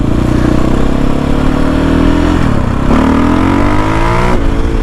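A KTM 500 EXCF dirt bike engine fitted with a new ECU revs hard and loud up close, pitch climbing and dropping through repeated throttle blips with a raspy exhaust note.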